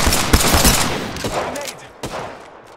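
Apex Legends gunfire rattles in quick, loud bursts up close, then thins to a few scattered shots with one sharp report near the end.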